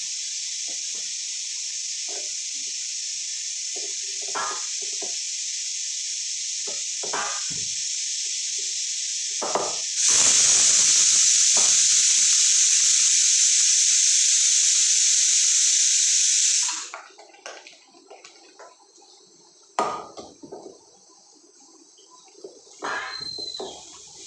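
Gram flour fritters (bora) sizzle and hiss in hot oil, a steady loud frying hiss that surges sharply louder for several seconds as fresh batter drops in, then settles to a quieter crackle with occasional clinks.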